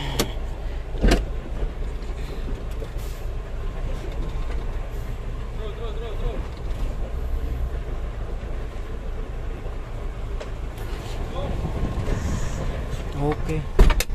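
A Nissan Diesel tronton dump truck reversing, its engine a low steady rumble with a brief knock near the start and near the end, while someone talks over it.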